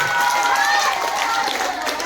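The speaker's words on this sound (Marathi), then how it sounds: "जोरदार टाळ्या" Loud, dense applause and cheering from a crowded audience at a school quiz competition, continuous and close for a couple of seconds, filling the room for a team awarded points.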